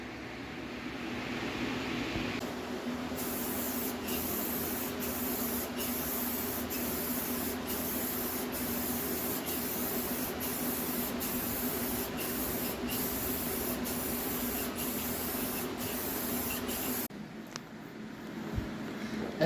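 Clear coat paint sprayed onto custom Jeep Wrangler YJ fenders, a close steady hiss of the spray gun running continuously for well over ten seconds before cutting off, no talk.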